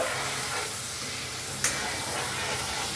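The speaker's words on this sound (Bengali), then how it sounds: "পাঁচ মিনিট আলুটাকে একটু ভেজে নেব।" Potato pieces fry in hot oil for prawn khichuri, a dense, unbroken hiss that holds steady throughout, with one brief click midway.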